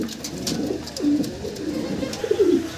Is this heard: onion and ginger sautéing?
no